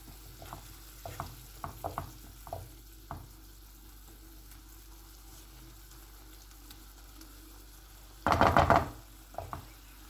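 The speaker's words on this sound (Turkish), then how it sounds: "Şurada hafiften pişirip indireceğim." Egg with yemlik greens (dede sakalı) cooking in a pan, a soft sizzle under scattered stirring and utensil knocks, with a brief louder burst of clatter near the end and no talk.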